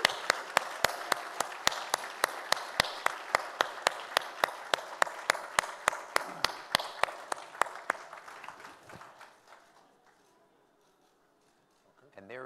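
Audience applause at an annual award gala after a panel discussion: sharp, rhythmic claps ring out steadily and close, then thin and fade into near silence near the end.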